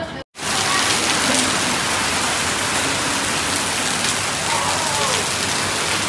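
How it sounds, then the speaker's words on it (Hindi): Heavy rain pours steadily outdoors, a dense, loud, continuous hiss that holds for the whole stretch after a brief cut at the very start. "बाहर बारिश अच्छी चालू हो गई बहुत भयानक वाली बारिश चालू हो गई"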